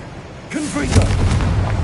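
A Confringo explosive spell blast cast in the Hogwarts Legacy video game, a booming burst after a shouted incantation, with a voice speaking over it.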